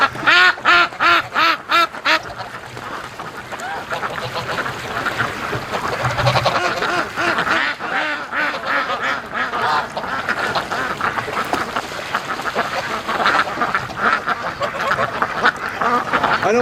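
Free-range ducks and geese call near a lake in a dense, continuous chorus of quacks and honks, loud and close throughout, opening with a few rapid distinct calls.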